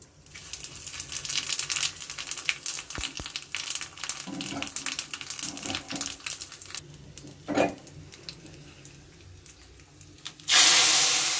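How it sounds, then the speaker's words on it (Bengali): Dried chilli, bay leaf and whole cumin tempering in hot oil, a sustained hissing sizzle with scattered crackles and pops, ending in a sudden loud burst of spitting. "ফোড়নটা এখন দিয়ে দেব। ফোড়নে থাকবে শুকনো লঙ্কা, তেজপাতা আর থাকবে গোটা জিরে।"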